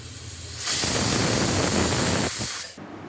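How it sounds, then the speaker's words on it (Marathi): A pressure cooker cooking rice kheer vents steam in a loud, sustained hiss for about two seconds, a close, harsh rushing spray that cuts off abruptly. "कुकरची शिट्टी झाली आहे"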